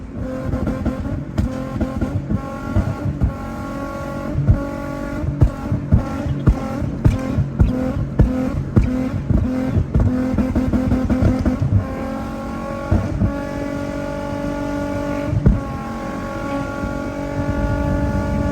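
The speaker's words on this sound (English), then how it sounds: "you can hear the flames ignite and start like flame throwing" An automatic Infiniti G35 engine revving hard in repeated bursts with rolling anti-lag, sharp pops and bangs of igniting flames cracking between the revs, close and loud.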